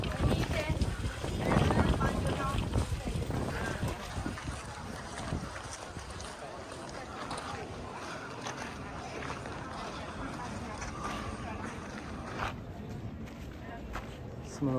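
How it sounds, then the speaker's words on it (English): Wind blows outdoors across the ruins of Pompeii, gusting hardest and loudest at first and then settling into a steady buffeting rush, with people talking. "All the wind and cloud cover."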